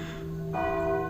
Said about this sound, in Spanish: me llegaba el sonido de lejanas campanas que tañían de cuando en cuando